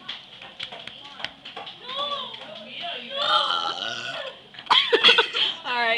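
A girl lets out loud, drawn-out burps amid excited children's chatter and laughter during a burping contest.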